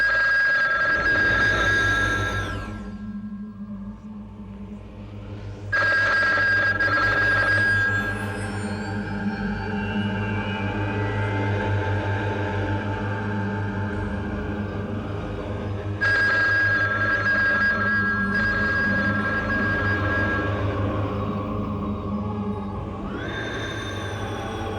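A telephone rings repeatedly in a horror show scene, with loud electronic rings recurring over a low droning background and no voices.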